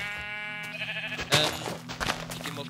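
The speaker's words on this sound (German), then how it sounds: "Das ist ein Schaf." A sheep bleats in Minecraft, giving a wavering blocky-game baa amid other game sounds and background music, fairly loud and near.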